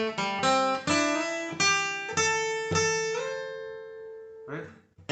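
A lick on acoustic guitar: notes picked in clear succession, with one re-struck and slid upward so it rings out and decays, followed by a brief soft scrape.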